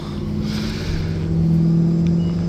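Old Harley-Davidson motorcycle engine running, a steady low rumble with a deep droning hum that rises slightly in loudness midway, close and continuous with no talk.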